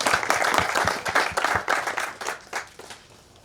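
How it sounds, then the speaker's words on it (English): Applause from a small crowd at an outdoor ribbon cutting ceremony and annual meeting, a burst of individual claps that starts full and thins out toward the end, with no talk over it. "if I can give them a round of applause"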